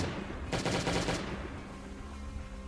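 An M16 rifle fires a quick burst of about eight rapid shots in the zombie survival game Last Day on Earth, loud and close, followed by a ringing decay into quiet.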